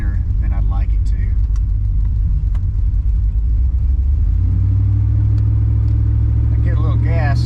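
A carbureted LS V8 idles in an OBS truck, a loud steady low rumble that swells as the throttle opens slightly, with a voice speaking over the engine at the start.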